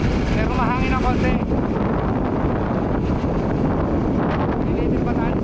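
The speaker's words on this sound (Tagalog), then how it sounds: "Pero mahangin na konti." Wind gusts across the microphone on an island coast, a loud continuous buffeting roar, with a voice briefly audible near the start.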